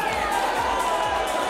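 A cheering crowd at a boxing show roars steadily for boxer Frank Hart, a dense wash of shouts and chatter that fills the whole moment.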